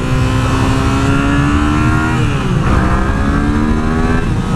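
A 2015 Yamaha FZ07 motorcycle's engine revs loudly up through its short gears, pitch climbing quickly then dropping at each shift, heard close with steady wind and road roar underneath.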